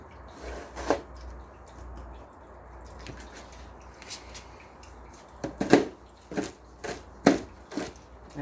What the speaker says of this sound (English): I'm going to be kind of chopping up the celery a little bit.